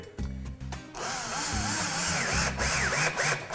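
A cordless power drill drives screws to mount a storage rack, with short trigger blips followed by a sustained whining run that rises and falls in pitch, close and clear with no talking.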